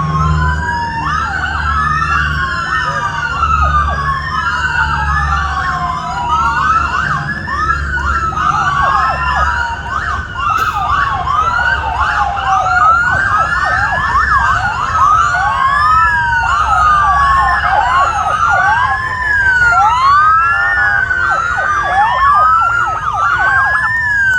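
Wailing and yelping sirens from the Torrance Police Motor Detail motorcycles riding in an Armed Forces parade, several units overlapping loudly and continuously, over a low rumble of engines.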